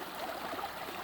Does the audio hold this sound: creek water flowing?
yes